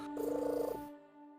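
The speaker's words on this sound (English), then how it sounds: "I hear a kitty" A pet cat purrs close by in a steady, rhythmic rumble lasting under a second, followed by quiet.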